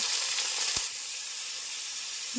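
Carrot, capsicum and onion sizzling in a hot pan with crushed onion and garlic, a steady bright hiss with a brief clatter as the vegetables drop in, close and continuous without talk.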